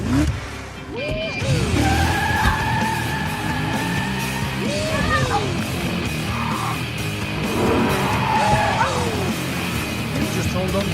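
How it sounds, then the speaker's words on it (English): A staged car chase with engines revving and surging, tyres squealing and skidding, and rising whooshes over a dense, steady roar. Shouts cut through the noise throughout. "I need to include a car chase scene"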